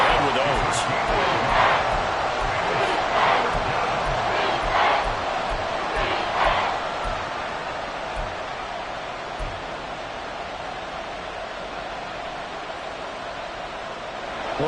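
A large stadium crowd roars at an NFL football game, a loud sustained wash of cheering with bursts of louder shouts early on, settling to a steadier rumble.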